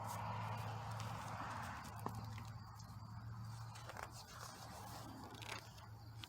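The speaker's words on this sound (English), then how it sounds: "So the horse hung his head and clip-clopped back out." Horse hooves clip-clop steadily at a walking pace, the soft clopping sitting over a low, constant background hum.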